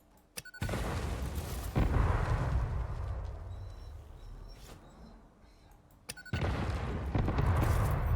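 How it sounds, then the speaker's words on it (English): Fireworks exploding outside, a series of deep booms and sharp cracks separated by rumbling lulls, heard from indoors with no talk. "It's funny, fireworks and that doesn't bother Randy"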